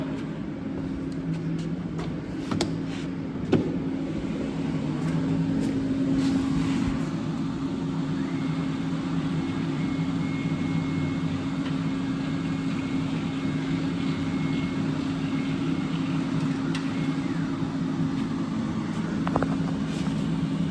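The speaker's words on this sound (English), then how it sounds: "I will drive the machine over" A CNC cutting machine drives its gantry across the table, a steady motor hum and whine that holds for about twenty seconds with faint clicks and a brief change in tone near the end.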